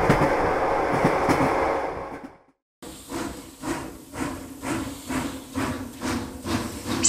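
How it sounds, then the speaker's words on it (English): A passenger train rolls past with a steady broadband rumble and hiss, broken by a brief gap, then a rhythmic series of clacking wheel beats over rail joints, fairly close and loud. "Passenger train."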